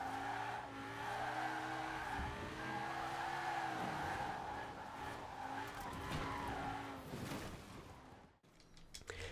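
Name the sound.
car accelerating and skidding in video game Forza Horizon 4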